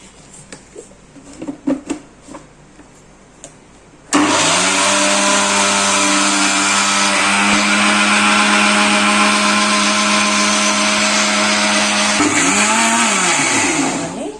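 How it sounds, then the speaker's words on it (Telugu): A kitchen mixer grinder jar churns cream into butter, a loud steady motor whine starting abruptly after a few seconds of quiet handling sounds and running continuously before slowing near the end. "ఈ మిక్సీ జార్లో వేసుకున్నాం కదా ఈ మీగడిని దీన్ని కొద్దిసేపు ఒక టూ మినిట్స్ అలా తిప్పితే వెన్న వచ్చేస్తుంది"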